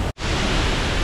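The Malabsay Falls waterfall on Mount Isarog roars as a dense, even rush of falling water, broken only by a split-second cut near the start.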